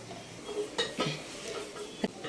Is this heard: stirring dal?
yes